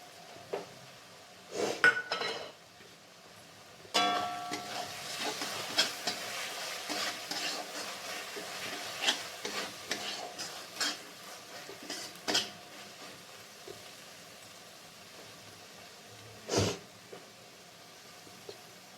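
A ground paste of melon seed, poppy seed and white sesame goes into frying masala, with soft sizzling under repeated scraping and stirring, plus scattered clinks of a utensil against the pan, close and moderately quiet.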